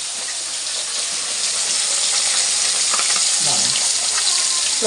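Puti fish frying hard in hot mustard oil, a loud steady broadband sizzle with crackling pops running through the whole stretch, close by and with no voices.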